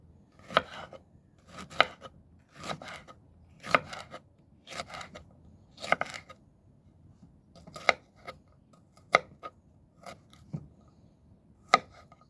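Jalapeño peppers are chopped with a knife for pickling, about a dozen crisp, separate knocks on a board at a steady pace of roughly one per second, close and alone.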